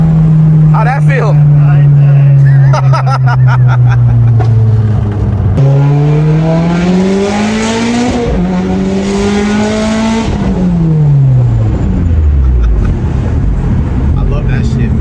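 A Mitsubishi Evo X on a stock block pulls hard up through the gears, its engine note climbing and dropping with each shift as it closes in and roars past before fading away, with people talking over it.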